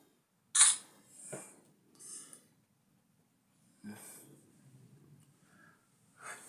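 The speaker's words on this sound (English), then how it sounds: "Let me take a selfie." A phone camera takes selfies, giving several short, close shutter-like bursts separated by quiet gaps, with soft breathy noise between them.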